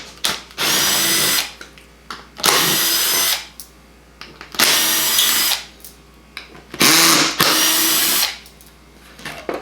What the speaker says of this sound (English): Using a T30 Torx, we're going to remove the factory base.